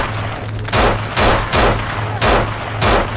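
Gunfire in the zombie video game No More Room in Hell, five loud, sharp bursts spaced roughly half a second apart over a low background hum.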